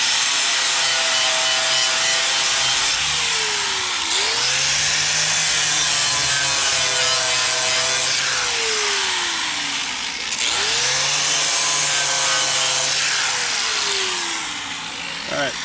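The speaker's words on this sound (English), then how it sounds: "what I'm gonna do is just grind a spot on the trailer to connect the ground" Angle grinder working a spot on a small metal trailer, rising and falling whines with repeated passes in long sweeps, loud and close.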